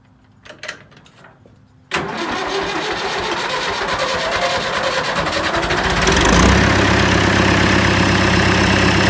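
Diesel engine of a David Brown 990 tractor with an injector pump issue: a few faint clicks, then it cranks and catches, running loud and close with a steady rough idle that rises slightly near the end.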